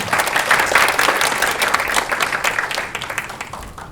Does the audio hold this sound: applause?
yes